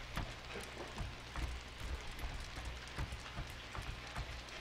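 Rain falls steadily in the video game Killzone Shadow Fall, a soft continuous patter of drops striking surfaces with scattered heavier splats, heard faintly with no talk.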